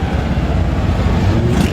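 Cars rolling past during the Le Mans 24 Hours drivers' parade, a steady, loud engine and road rumble that swells slightly toward the end, with no talking.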